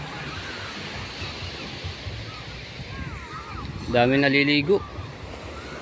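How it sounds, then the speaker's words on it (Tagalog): Sea waves wash onto the beach at Bukana with a constant rushing surf and wind noise. A person speaks briefly near the end. "Ang ganda na ngayon ng dagat mga katsepo"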